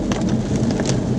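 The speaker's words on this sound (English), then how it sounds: "I'm driving in the rain." Heavy rain drums steadily in a dense, constant wash, with a low rumble underneath as an Audi RS3 drives through the downpour.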